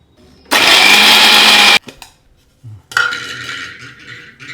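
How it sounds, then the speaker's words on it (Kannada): A kitchen mixer grinder coarsely grinds roasted spices in a loud, steady burst of about a second, then stops; a shorter whirring pulse with light clinking follows. "ಇವಾಗ ಇದನ್ನು ತರತರಿಯಾಗಿ ಪುಡಿ ಮಾಡ್ಕೋಬೇಕು"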